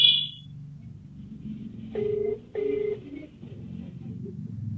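A phone rings with an incoming call, two short electronic ring bursts at moderate volume over a low background hum and faint rumble, after a brief high beep at the start.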